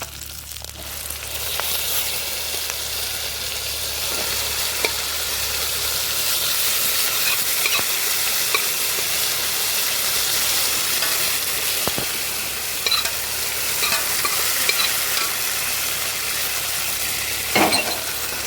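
Jackfruit pieces go into a hot pan for chakka erissery and are stirred, producing a steady, hissing sizzle with occasional faint clinks of a spoon, nearby and unbroken by speech.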